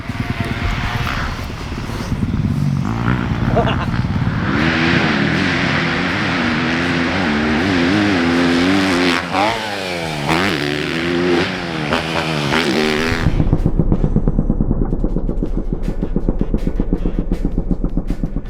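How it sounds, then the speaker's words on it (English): A 2025 Yamaha YZ250FX dirt bike ridden flat out on a grass track straightaway in sixth gear, engine revving high and rising through the pull, then a rough lower drone near the end. "In this grass track, this straightaway, we're 6th gear and I can't find the rev limiter."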